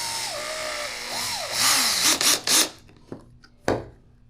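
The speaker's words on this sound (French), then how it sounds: "Après avoir prépercé les trous, prenez n'importe quelle vis." A screw is driven into a pre-drilled PVC pipe, giving rising and falling whines, then a few gritty grinding bursts and sharp knocks, close and moderately loud with no talking.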